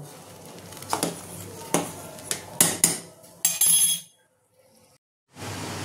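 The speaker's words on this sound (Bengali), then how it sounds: "পাস্তাটাকে নাড়বো" A pot of pasta boiling on a home kitchen stove is stirred, giving several distinct clinks and scrapes of a utensil against the pot, a brief burst of bubbling, then a pause before the clatter resumes.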